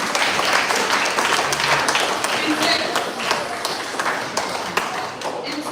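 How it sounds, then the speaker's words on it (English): An audience at a school Bible quiz held by a teachers association in Grenada claps steadily for the quiz participants, a dense, sustained applause with scattered louder claps throughout. "Let's give the participants a round of applause."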